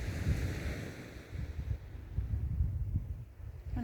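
Sea waves at night wash and rumble steadily, with wind buffeting the microphone in a continuous low roar and no voices.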